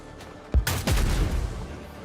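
Gunfire from Warhammer 40K: Dark Heresy as shots hit an enemy's arms, a sudden sharp report followed by a loud burst of rapid fire that rings out and decays, fairly close and without speech.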